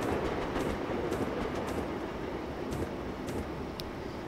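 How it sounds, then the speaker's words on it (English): A cargo train in Train Simulator 2015 rolls past on the West Coast Main Line, a steady loud rumble with rhythmic wheel clicks and occasional sharp metallic ticks, no voices. "It's pretty loud too, that cargo train"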